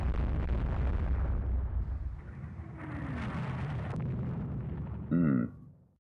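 Heavy shell impacts on warships in the naval battle game Rule the Waves 2, a deep rumbling explosion that fades, followed by a short, sharp burst near the end.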